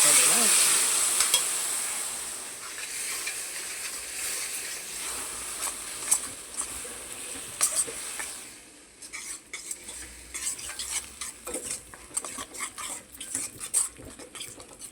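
Spoon stirring curd into a cashew paneer curry in a hot pan, with steady scraping, clinking against metal and a soft sizzle throughout, close and alone.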